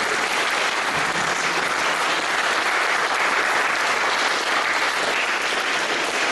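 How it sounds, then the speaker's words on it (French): A parish talent-show audience applauds steadily for the full stretch, a dense, even wash of clapping with no talk over it. "je crois qu'on peut applaudir"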